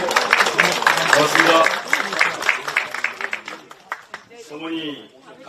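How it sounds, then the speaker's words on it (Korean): Applause from lawmakers gathered for a Democratic Party caucus meeting at the National Assembly, a patter of clapping mixed with a speaker's voice that fades to scattered claps. "박수 보내주세요"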